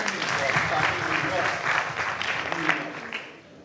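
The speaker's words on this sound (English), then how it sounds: "Round of applause for Tandy." Applause at a class reunion for a 1990 graduating class, steady clapping from a gathered crowd filling the room for several seconds, with voices mixed in underneath.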